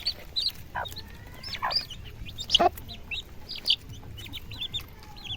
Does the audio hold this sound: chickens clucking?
yes